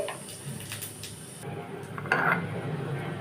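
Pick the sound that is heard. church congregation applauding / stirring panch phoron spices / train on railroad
stirring panch phoron spices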